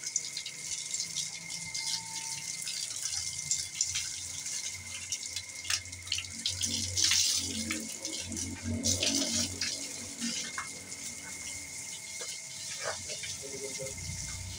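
Tap water splashing over a cow being bathed to cool it in hot weather, a steady running gush with scattered knocks and faint movement sounds throughout.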